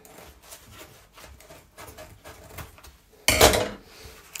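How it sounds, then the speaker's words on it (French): A knife cuts a roll in half with rough rubbing, sawing strokes, ending in one louder, harsher burst of cutting near the end. "Je vais couper le rouleau en deux, comme ceci."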